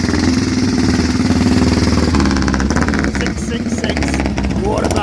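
Vintage motorcycle engine at a club hillclimb, running loudly and steadily close by with a throbbing, rumbling idle that shifts toward revving near the end, while people chatter in the background.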